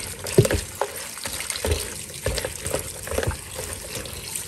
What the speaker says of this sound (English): I'll just rinse them one more time before we dump them away.